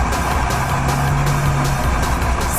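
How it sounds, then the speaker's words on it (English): A truck engine drones steadily as it drives along a road, a continuous loud rumble with no pauses or talk. "The truck drives a long distance with no police in sight."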